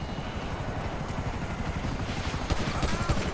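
A police helicopter in the video game GTA 5 thrums loudly and steadily with a rhythmic rotor chop, close by, with a few sharp bangs near the end.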